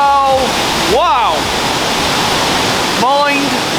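A powerful waterfall on Scotland's NC500 route roars as a steady, loud wash of broadband noise, with people talking over it at several points.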